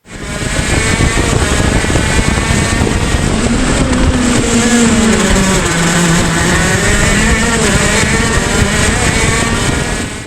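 Racing kart engine at about 130 km/h braking hard into a corner and dropping four gears, a loud continuous buzzing engine note with pitch sliding and stepping down, close and alone with no talk.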